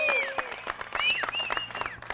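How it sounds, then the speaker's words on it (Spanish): Crowd applause for the Rebeldes biker club at its anniversary biker show, dense clapping with cheers and whistles running throughout. "un aplauso para los Rebeldes"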